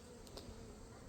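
Honey bees from a newly installed package hive, agitated after two or three days of shipping, give off a steady faint buzzing hum, low and continuous throughout.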